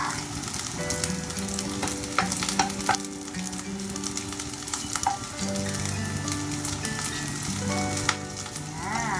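Garlic frying in oil sizzles and crackles steadily, with occasional scraping stirs, close by, while a sustained melodic tone plays underneath.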